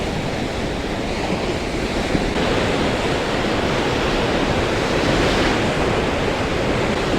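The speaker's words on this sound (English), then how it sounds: "watch the waves crash into this rock" Ocean surf crashing against a rock on the Oregon coast, a loud, steady roar of breaking waves with broadband rush throughout and no talking.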